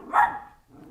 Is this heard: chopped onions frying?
no